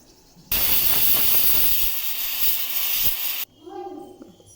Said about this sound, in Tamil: ப்ரெஷர் ரிலீஸ் ஆகிடுச்சு.